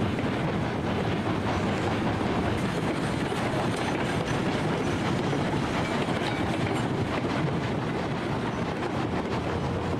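A small steam locomotive in the Railroads Online game rolls along steadily, its continuous rumble and rhythmic clickety-clack of wheels on rail loud and unbroken for the whole stretch, with no one talking.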